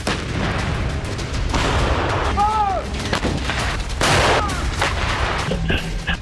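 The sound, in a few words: tank and artillery gunfire during military exercise in Lapland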